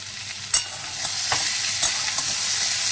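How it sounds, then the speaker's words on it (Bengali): A curry of potato, jackfruit seeds and bitter gourd fries in a pan with a steady, close hiss of sizzling oil, broken by a few soft stirring clicks, with no talking. "এটা বসিয়েছি আলু আর ওই কাঁঠালের দানা আর হচ্ছে উচ্ছে দিয়ে একটা তরকারি"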